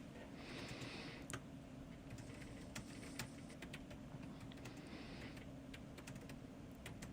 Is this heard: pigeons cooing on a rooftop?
no